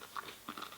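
A crunchy chocolate bar bitten and chewed up close, with a couple of quick, faint, crisp crunches in under a second.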